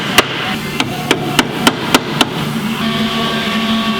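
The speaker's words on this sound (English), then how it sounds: "Hammer!" Seven sharp hammer strikes on a car part ring out at a steady, fairly quick pace, close and loud, followed by a lingering metallic hum in a workshop.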